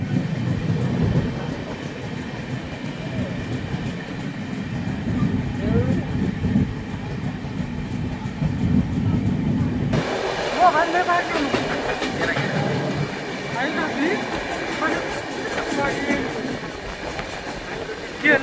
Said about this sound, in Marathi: आता ट्रेन हल्लेली आहे आमची